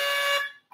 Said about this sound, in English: So all buzzers are working.